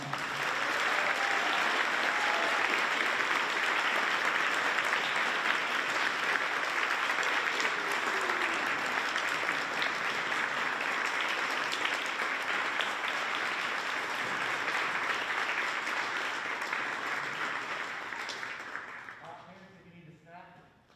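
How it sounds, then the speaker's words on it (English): Sustained, loud applause from an audience at a spring school band concert, a steady wash of many hands clapping for about nineteen seconds before tapering off, with a voice speaking as it fades. "please give a big round of applause to this year's team?"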